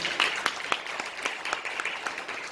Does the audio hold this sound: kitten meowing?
no